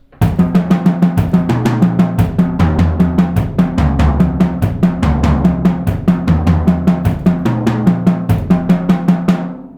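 A drum kit plays a paradiddle-diddle sticking pattern, with the double strokes moved to a different drum each time, producing a rapid repeating cycle of sharp hits with varying tom pitches, loud, close and alone.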